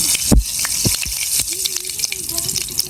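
Cumin seeds sizzling in hot oil, a steady crackling hiss with a few sharp pops and clinks, while a person talks over it.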